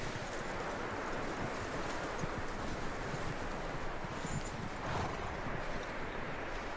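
Horse hooves clip-clop steadily in Red Dead Redemption 2, a dense run of close, rhythmic footfalls over a constant bed of wind and rustling.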